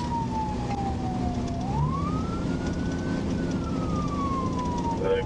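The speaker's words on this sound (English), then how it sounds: "I'm 10 feet behind with my siren on, they definitely see me." Police car siren on a highway pursuit, wailing steadily with slow rising and falling sweeps over a constant road and engine rumble, fairly loud and alone.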